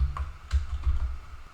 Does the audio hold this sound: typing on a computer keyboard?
yes